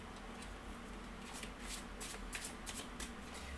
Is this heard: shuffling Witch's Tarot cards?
yes